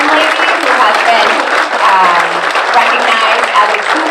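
An audience at a chamber of commerce breakfast applauds, a dense, loud wash of clapping that holds steady from start to finish with no pauses.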